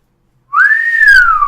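A single clear whistle rises slightly then slides gently downward, loud and close, held for about a second after a moment of silence.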